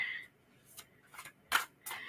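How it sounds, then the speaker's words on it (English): A large tarot deck is shuffled in a few soft, brief riffles and snaps, quiet and close, spaced out over a couple of seconds with no talk. "These cards are a little bit big for my squirrel hands, so bear with me as I shuffle here."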